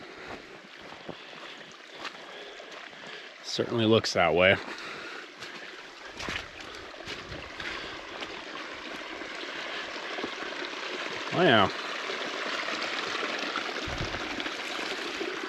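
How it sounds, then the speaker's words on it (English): Running water from a small spring at a wooded overlanding campsite, a steady low trickling wash that persists throughout while people talk briefly now and then. "As I was walking, I could hear running water."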